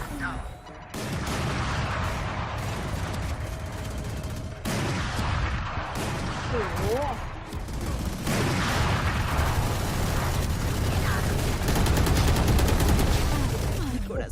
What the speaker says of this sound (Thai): เฮ้ยมันมีคนไม่เลิกเล่นระเบิดเลย